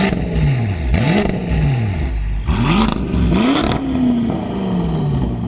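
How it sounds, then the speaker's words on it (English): A BMW F10 M5 Competition's twin-turbo V8 with Akrapovic and M Performance exhaust revs repeatedly in loud, close bursts, pitch rising and falling with each blip, then settling into a turbo spool-down. "You gotta love that V8."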